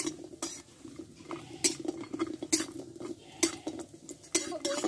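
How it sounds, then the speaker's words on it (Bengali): Lentil dumplings (bori) fry in white oil while a metal spatula scrapes and clinks against the pan in an irregular stirring rhythm, with the faint sizzle mostly buried under the utensil noise. "যে বড়িটাকে আমি ভেজে নিব আগে"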